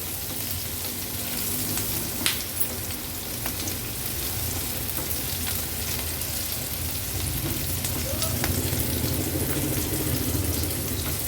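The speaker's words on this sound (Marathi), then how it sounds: "लो फ्लेमवर हे थोडं परतून घेते म्हणजे मिरचीचा तिखटपणा आणि लसणाचा आणि आल्याचा फ्लेवर त्या ते तेलामध्ये छान उतरेल" Garlic, green chili and ginger sauté in oil on a low flame, giving a steady soft sizzle and crackle with faint spatula scrapes and an occasional sharper pop, continuous throughout.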